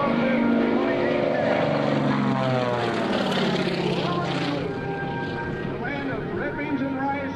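A propeller plane performs at an air show, its engine droning loud and steady throughout with a shifting pitch as it passes. A voice speaks over the engine noise.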